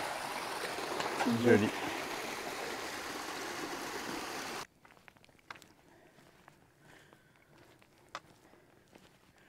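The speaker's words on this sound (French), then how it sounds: "Petit ruisseau bucolique." A small stream burbles steadily, close up, for a few seconds, then cuts off to quieter footsteps and a brief spoken word.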